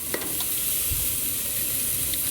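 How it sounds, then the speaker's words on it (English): Peppers and onions sauteing on a Monument grill send up a steady, close sizzle and hiss throughout, with a few faint scrapes and clicks from stirring. "put some peppers and onions in here to saute them up a little bit first"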